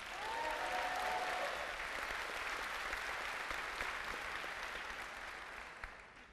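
Audience applause at a Bulgarian film festival tribute, a dense, even wash of many hands clapping that holds steady and begins to taper near the end, with a brief voice or tone early on.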